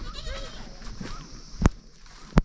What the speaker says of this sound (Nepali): यहाँ चाहिँ दुइटा भेडाहरू